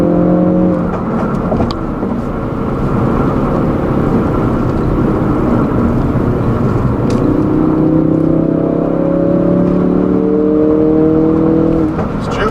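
A 2016 Ford Focus RS accelerating hard in third gear, its engine roaring loud and close with rising pitch as revs climb, then a gear change and renewed climb near the end.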